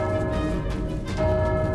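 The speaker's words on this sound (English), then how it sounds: "That bell that you hear, that means more enemies spawning in." A sustained bell tone in a VR video game signaling a new wave of enemies spawning, ringing loud and steady for under two seconds with a slight swell toward the end.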